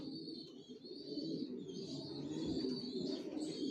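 Racer pigeons coo softly and continuously, with low rolling calls over a faint high background hum, close by and quiet, with no talking.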